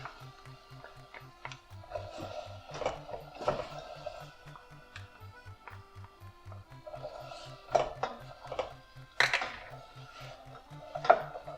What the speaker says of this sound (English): just keep stirring it so it doesn't burn